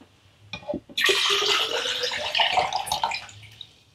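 Water from a tap splashing and rinsing into a photo developing tray, a few short knocks of the tray first, then a loud, steady close rush of running water that fades out near the end.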